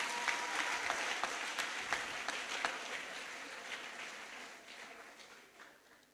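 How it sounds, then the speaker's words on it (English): An audience applauds after a girls' senior high school debate semifinal, with steady, dense clapping that holds for several seconds and then slowly fades. "Let's give them another round of applause."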